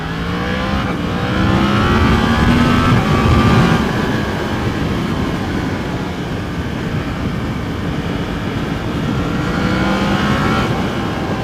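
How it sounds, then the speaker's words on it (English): A 2017 Yamaha MT-10 sport motorcycle engine revs and climbs in pitch, loud and close, its rising whine swelling and easing over a sustained roar. "That's that engine sound as well, and the engine where it picks up."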